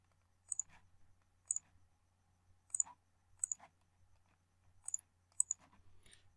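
Computer mouse clicks come in about seven short crisp pairs spaced roughly a second apart, close and quiet over a faint steady hum.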